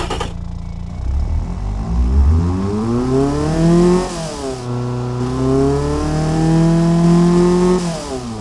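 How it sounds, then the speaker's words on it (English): Simulated Toyota 22R-E four-cylinder with tubular headers and a 2-inch exhaust revs up loudly, climbs, dips briefly and climbs again to a sustained high rev before dropping off, alone with no talk. "Very good, and the engine should sound much better now."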